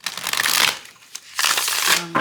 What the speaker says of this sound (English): after we shuffle some of your tarot